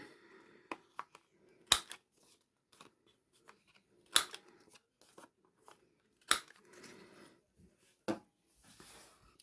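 Paper corners being rounded with a corner punch for a mini album page, a few sharp isolated clicks and crunches spaced a couple of seconds apart, close and fairly quiet.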